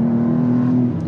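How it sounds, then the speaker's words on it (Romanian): BMW M2 with manual gearbox pulling away from a standstill with a touch of turbo lag, a steady low engine drone holding a sustained tone, loud and close, for about a second. "are un pic de turbo lag la plecarea de pe loc așa"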